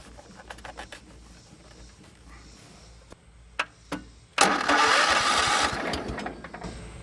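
A lawn mower engine gives a few scattered clicks and thumps, then catches and roars to life, running loudly and close for the last few seconds.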